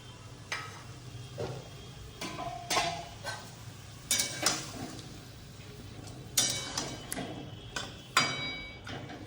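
Ginger and garlic curry simmering in a pan on low heat, giving off soft bubbling and faint sizzle with a few louder stirring clinks and scrapes scattered throughout.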